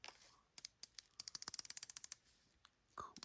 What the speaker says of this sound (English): Let's look at the bezel. Here, let's hear it click.